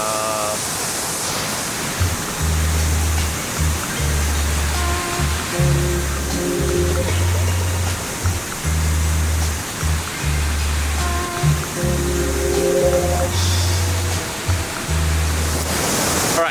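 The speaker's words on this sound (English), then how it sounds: "in order to capture the full breadth of this waterfall, we want to get this whole flow right here" A waterfall pours in a continuous, loud, broadband rush that stays steady throughout, with deep pulsing low tones underneath.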